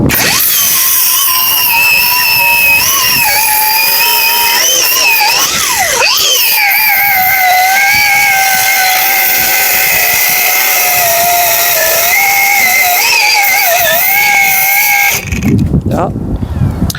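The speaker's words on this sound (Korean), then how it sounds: "그라인드 날도 갈고 예. 다시 이제 잘라 가보겠습니다" Angle grinder cutting through stainless steel armored wire cable, a loud, steady high-pitched whine with a wavering pitch that runs almost continuously, then cuts off near the end.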